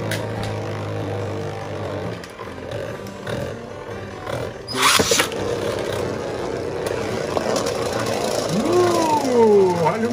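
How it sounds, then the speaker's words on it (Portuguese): Motorized spinning tops, Regalia Genesis against Wizard Fafnir, whir in a battle arena with a steady buzzing hum. Sharp clacks come near the middle, then rising and falling whines toward the end, loud and continuous. "Olha o motor em ação"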